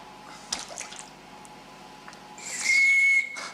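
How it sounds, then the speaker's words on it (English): A shrill, steady blast from a life jacket whistle rings out for about a second near the end, preceded by faint splashing and handling noises. "can you take the whistle out of the life jacket for me and blow it if you can?"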